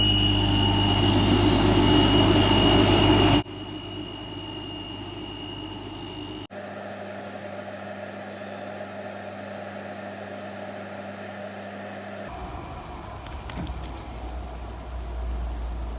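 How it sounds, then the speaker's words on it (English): A felt polishing wheel spins against a scratched clasp during a Citizen Skyhawk watch restoration, giving a steady motorized whine and hum that shifts in pitch and loudness between several sections of the run. "in order to take those out, I usually like to use the felt wheel first"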